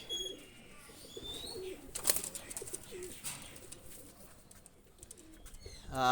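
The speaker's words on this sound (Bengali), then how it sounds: "দুইটা কবুতার আমি ছেড়ে দেখাচ্ছি" Pakistani high flyer pigeons coo softly as they are released, a few low murmuring calls against faint background noise, with a sharper rustle near the end.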